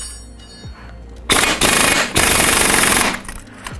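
A pneumatic impact wrench hammers at a motorcycle's sprocket nut, driven by an air compressor, in two loud, close rattling bursts separated by a brief pause, with a quieter shop background before them.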